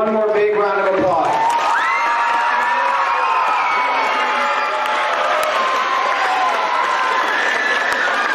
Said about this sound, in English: Let's give all the staffers one more big round of applause.